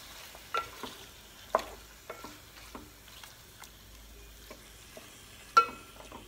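A spatula stirs prawn biryani mixture in a pan, producing sparse soft scrapes and a few sharper taps over a faint low sizzle.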